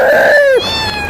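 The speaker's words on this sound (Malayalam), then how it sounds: "ഇവിടെ ഒരു കറുത്ത പൂച്ച, ഇവിടെ കുഞ്ഞു പൂച്ച, വേറെ പൂച്ച." A single cat gives one short, loud, close meow that bends downward in pitch, heard outdoors in Muscat where several cats roam nearby.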